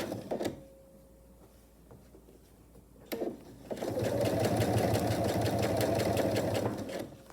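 A sewing machine stitching a vinyl pouch: a short burst and handling clicks, a pause, then a loud steady whirring run of rapid stitching close by, with no talk.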